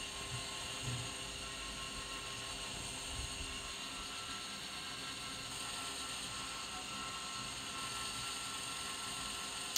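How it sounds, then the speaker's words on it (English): A belt grinder shapes a bushcraft knife on the slack part of the belt, giving a steady, even mechanical whine with a faint rattle throughout. "In this part I'm using mainly the slack of the grinder."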